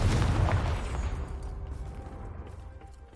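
Spell blasts from Bombarda and Confringo in Hogwarts Legacy on PS5, a loud booming burst at the start that rumbles and fades out over a few seconds, with no talking.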